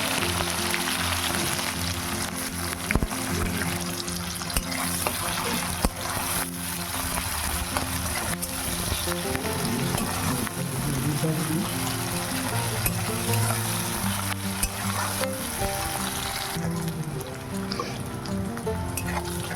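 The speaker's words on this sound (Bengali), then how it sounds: "কিছুটা পরিমাণ তেল আর দিচ্ছি গোটা গরম মশলা একটু ছোটো করে নিয়ে ফোড়নে দিয়ে দিলাম" Whole garam masala, broken into small pieces, fries in oil for chicken, making a dense, continuous sizzle close by, with occasional stirring scrapes and no talking.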